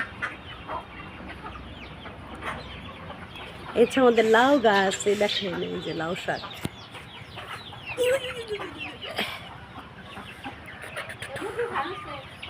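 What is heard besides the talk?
chickens clucking at a village farm coop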